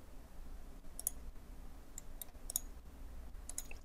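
Computer mouse clicks while working in Inventor CAD software: a sparse series of crisp, close, faint clicks, some in quick pairs, over a quiet background.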